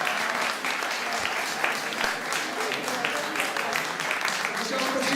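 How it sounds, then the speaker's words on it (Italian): Steady, dense audience applause fills a concert hall for a professor at a lyric opera concert, moderately loud and continuous throughout with no voices. "applauso ulteriore per la professoressa Carolina Giannoforte"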